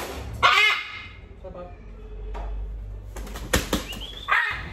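A parrot flapping its wings while agitated during taming, giving loud, close bursts of beating wings with squawks mixed in, and someone speaking in between.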